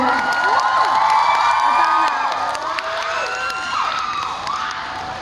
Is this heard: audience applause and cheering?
yes